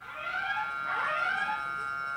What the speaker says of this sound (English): It is a intercom like with a siren noise going off